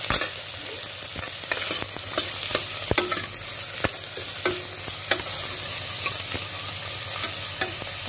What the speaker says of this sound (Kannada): ಒಂದೆರಡು ನಿಮಿಷ ಹೀಗೆ ಕೈ ಆಡಿಸ್ತಾ ಇರ್ತೀನಿ ನೋಡಿ.